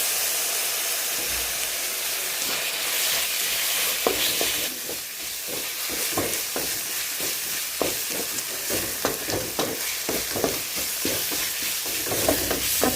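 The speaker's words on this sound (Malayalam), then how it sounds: "ഇനി നമുക്കിതിലേക്ക് ഒരു തക്കാളി അരിഞ്ഞത് കൂടി ചേർക്കാം." Chopped onion, tomato and green chilli frying in a pan for a spicy chickpea masala, a steady close sizzle with repeated scraping stirs of a spoon that grow busier after the first few seconds, with no voices.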